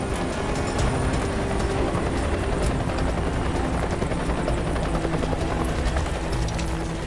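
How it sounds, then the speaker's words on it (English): A helicopter hovering over a river drones steadily and loudly, its rotor roar filling the whole stretch without pause and with no voices. "the helicopter lifts a second person from the river"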